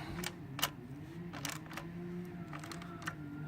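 Ratchet with a 17 mm socket tightening a bolt on a GY6 scooter engine, giving a run of quick, light clicks in short bursts over a low background hum.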